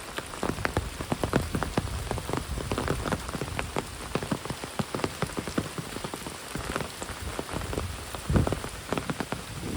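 Heavy rain pours down steadily, a dense, loud patter of drops striking surfaces nearby, with no voices.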